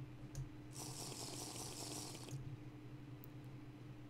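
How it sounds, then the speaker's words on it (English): Water runs or pours for about a second and a half in the Minecraft TerraFirmaCraft game as the character drinks, a soft splashing burst over a low steady hum, with no talking. "Might as well drink some water."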